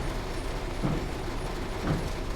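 An electric train braking in the Train Sim World Rivet Engineering Express: a steady, droning rumble of running gear, with two soft, hissing swells about a second apart.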